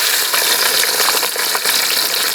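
Garlic hitting hot oil gives a loud, dense, continuous sizzle close by, with no voices over it.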